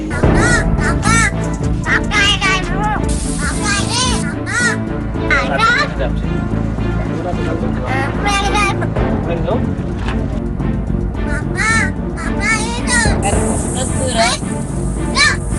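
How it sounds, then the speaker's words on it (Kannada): A pet talking crow caws repeatedly in a house in Gargaon village. The loud, busy calls come close together, with voices and household chatter mixed in throughout. "ಈ ಮಾತನಾಡುವ ಕಾಗೆ"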